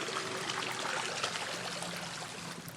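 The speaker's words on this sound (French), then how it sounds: "il y a des gens qui font leur lessive et qui lavent le linge" River water flows and splashes as people wash laundry, a steady near trickle and stream with soft irregular splashes and no clear talk.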